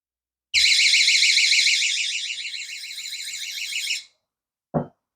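A loud electronic water leak alarm, made from a cheap window alarm, beeps in a rapid warbling pulse for about three and a half seconds, then cuts off, followed by a short click.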